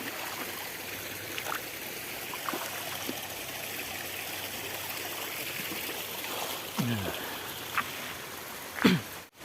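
A flowing river stream, steady close trickling and rushing water over the whole stretch, with a few brief knocks and splashes near the end, no talking.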